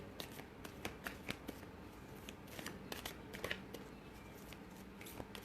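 Oracle cards are shuffled by hand during a tarot-style reading, a quiet run of soft riffling flicks and papery snaps in an irregular rhythm, close and alone.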